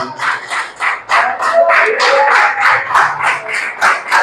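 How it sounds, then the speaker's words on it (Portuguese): A church congregation claps in praise during a service, a dense, rhythmic burst of applause with some voices mixed in, loud and close. "Diga glória a Deus e uma salva de palmas para Jesus."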